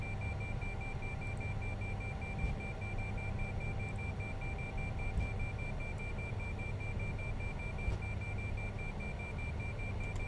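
A faint, steady electronic ILS marker beacon beeping repeats continuously over a low droning hum in an Airbus A350 cockpit in X-Plane 11, with no talking.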